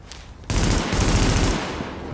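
Rapid bursts of gunfire in the video game Tom Clancy's The Division rattle loudly and continuously, like automatic weapons firing in quick succession.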